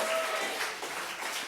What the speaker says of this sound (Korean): 우리 박수 한번 주님께 올려드리겠습니다